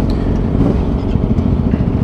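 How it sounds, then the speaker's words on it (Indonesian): A Yamaha Aerox Alpha Turbo scooter engine idling close by, a steady low rumbling drone with no break. "Kita hidupin aja motornya."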